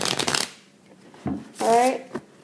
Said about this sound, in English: Alright, and then shuffle it.